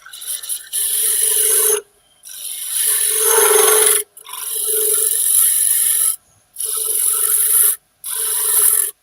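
A wooden tenon being cut with a chisel on a spinning lathe, loud rasping scrapes in several bursts separated by short pauses, close and without talk.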